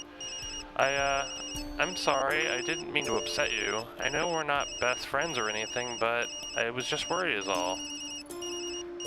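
Phone in the video game Tokyo Dark ringing with a repeating electronic tone beneath a woman's steady, close spoken dialogue throughout.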